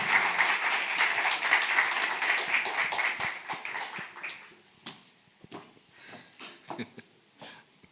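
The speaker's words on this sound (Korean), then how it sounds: "우리 박수로 환영하겠습니다." An audience at a church gathering claps in welcome, a steady burst of applause that thins after a few seconds into scattered, separate claps.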